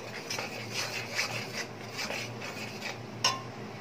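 A utensil scrapes and stirs through a jackfruit and prawn curry with yogurt in a pan over a high gas flame, with soft rhythmic rubbing strokes, a low burner hum beneath, and one sharper clink near the end.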